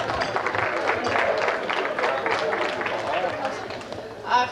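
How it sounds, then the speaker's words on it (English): Wedding guests at a 1988 reception applauding the ladies of the bridal party, a steady, moderately loud patter of many hands with some voices underneath. "Let's give them a nice round of applause."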